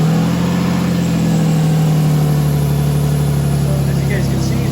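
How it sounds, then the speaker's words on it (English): A Lexus IS300 engine runs steadily after starting, a close, loud low idle with a continuous drone during a radiator and coolant job. "he's going to turn the car on to let it run"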